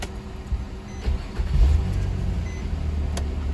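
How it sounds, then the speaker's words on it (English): A 2004 Nissan Maxima with a hard-start fault cranks and catches, brief low churning followed by a louder engine rumble settling into a steady idle, close by. "let's go ahead and start this vehicle"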